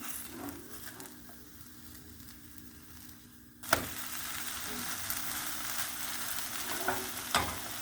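Leek börek fries in a pan, a soft sizzle that swells into loud, bright frying after a sharp clatter as it is flipped, with a few more clanks of the pan later.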